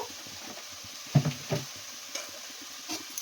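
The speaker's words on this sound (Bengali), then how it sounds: "এবারে এটাকে ভালো করে আমি নাড়াচাড়া করব" Cumin, coriander and other spices fry faintly in a pan, with a few soft scraping stirs of a spoon near the middle and quiet sizzling underneath, no talk.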